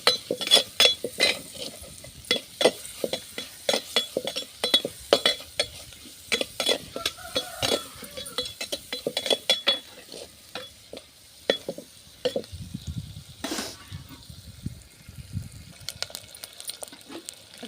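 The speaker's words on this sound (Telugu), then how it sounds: "చేప, కొంచెం నూనెలో వేగితే బాగా ఉండిద్ది" Fish frying in a little oil while being stirred, with rapid metal utensil scrapes and clinks against the pan over a soft sizzle, close and steady throughout.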